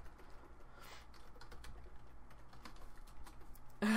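Typing on a computer keyboard while playing Minecraft: a quiet, fairly close run of irregular light key clicks with brief pauses, ending in a sudden louder sound.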